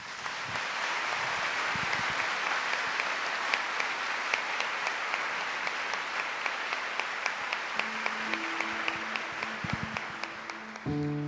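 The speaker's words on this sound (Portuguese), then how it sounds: "Aplaudamos a palavra." A church congregation applauds after the Gospel reading at a Monday Mass, sustained clapping filling the room for about ten seconds before a sung tone enters near the end.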